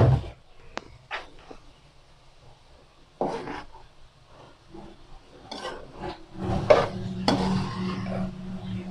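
Boiled macaroni and soft-cooked vegetables being mixed in a pot, with intermittent scraping and clattering of a utensil against the metal, louder knocks bunching toward the end.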